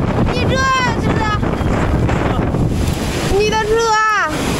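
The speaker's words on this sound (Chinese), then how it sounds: "这大风不行。" Strong wind in a sandstorm roars steadily and loudly, buffeting and rumbling close up, while excited voices talk and exclaim over it.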